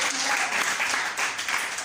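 Church congregation applauding, steady loud clapping from many hands throughout, with a voice speaking over it.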